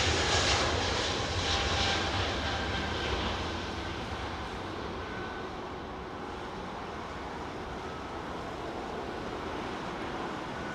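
A KLM airliner touches down at Heathrow Airport, its steady jet roar loudest at first, then fading to a lower sustained rumble as it rolls out, heard from a distance with no talk.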